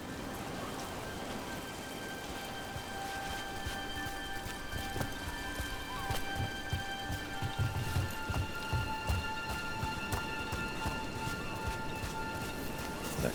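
Steady rain falls in the video game Dragon Age: The Veilguard, a dense hiss of drops pattering on surfaces, with faint tonal game ambience running underneath.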